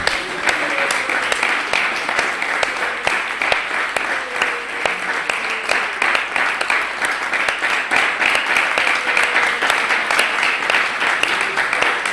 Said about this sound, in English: I think we give a little round of applause for Nityananda and our...